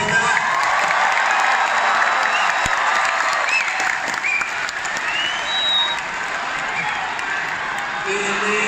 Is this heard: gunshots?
no